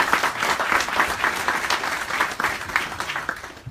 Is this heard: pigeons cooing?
no